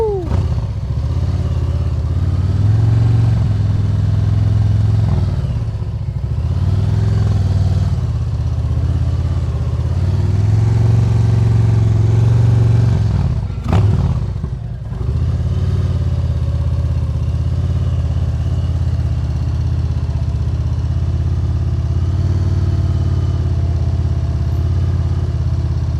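A 2019 Harley-Davidson CVO Street Glide with Redline exhaust rumbles low and steady, swelling in a few throttle blips and settling back, close and fairly loud with no talking.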